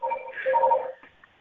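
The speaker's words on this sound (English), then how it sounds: "People know I'm doing interviews and they're calling up at the same time." Telephone ringing with an incoming call during an interview, a short patterned electronic ring with a brief pause and a faint blip after, fairly close and clear with no talk over it.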